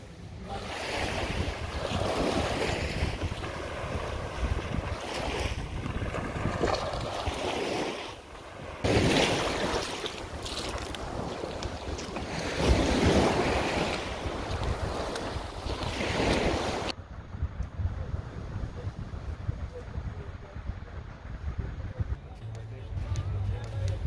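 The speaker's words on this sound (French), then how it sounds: "C'est un peu venteux, mais bien moins que sur la façade est" Strong wind sweeps across Long Beach on Koh Lanta, buffeting the microphone in loud gusts over rolling surf, with muffled voices at times.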